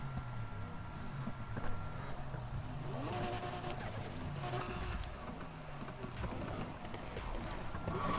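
A Chevrolet Colorado in a racing game revs and drones steadily, the engine pitch rising and falling through shifts with occasional tire squeal, moderately loud and continuous without talk.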